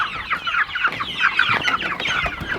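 Meat chickens cluck continuously and close by, with overlapping busy calls and a few sharper squawks from a small flock.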